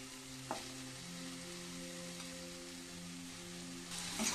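Chopped banana flower goes into hot oil with mashed tomatoes and spices, giving a soft, steady frying hiss at low level with a faint tonal hum beneath and a couple of brief clinks.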